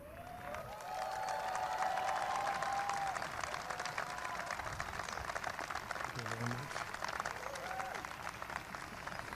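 An audience applauds Donald Trump with a polite golf clap, a steady wash of clapping from a crowd at moderate distance that holds evenly for several seconds, with some voices mixed in.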